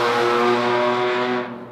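Loud car with a cheap, raspy muffler passing on a busy Las Vegas street, a strong harmonic engine drone close by that fades as it moves away, with no talking.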